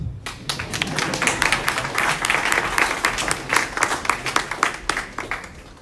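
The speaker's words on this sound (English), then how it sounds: "You're free to clap." An audience at a digital-banking session claps hard and steadily throughout, the individual hand strikes sharp and close, with no pause in the applause.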